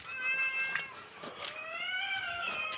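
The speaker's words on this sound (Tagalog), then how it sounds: "May mga pusa kaming alaga dito." Pet cats at a rural farmhouse meow in repeated rising and falling cries, fairly close, with some overlapping calls and no talk.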